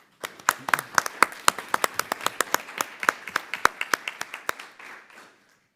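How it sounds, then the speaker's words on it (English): A small group at a board of trustees meeting claps for about five seconds, sharp separate claps in a loose, uneven rhythm that thins out and fades at the end. "Let's give them a round of applause."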